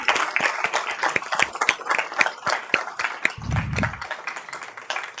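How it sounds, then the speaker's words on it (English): A small crowd claps in a steady, scattered round of applause, with a brief low rumble partway through. "a big round of applause for these survivors and advocates"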